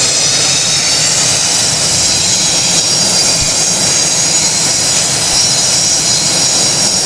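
Boeing 727 jet engines at 27% throttle in the Project Flight game: a loud, steady, unbroken roar with a high whine layered on top, constant and alone.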